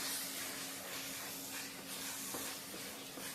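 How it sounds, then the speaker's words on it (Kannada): Mutton chops frying in oil in a pan give a steady, close sizzling hiss that runs unbroken throughout, with a faint low hum beneath it. "ಈ ಟೈಮಲ್ಲಿ ಹಾಕ್ಕೊಂಡು ಇದನ್ನು ಕೂಡ ಚೆನ್ನಾಗಿ ಫ್ರೈ ಮಾಡ್ಕೊಳ್ಳೋಣ"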